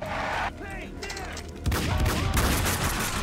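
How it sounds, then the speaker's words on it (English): Rapid gunfire from the video game Max Payne 2, loud bursts of shots with echoing tails, a short lull, then heavier sustained firing, with a voice briefly audible amid the shooting. "who the fuck was shooting me?"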